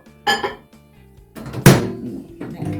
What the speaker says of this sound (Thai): ขออนุญาตใส่ไมโครเวฟเลยเ ด้อเพราะว่าจะได้เร็วนิดหนึ่งเนาะ